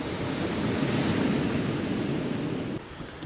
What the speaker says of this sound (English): We got a bit of a wind.